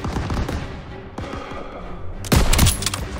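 Heavy turret and machine-gun fire rakes a town square during a World War II battle with a half-track in Call of Duty WWII, rapid bursts of shots running on throughout, then swelling into a louder, closer barrage near the end.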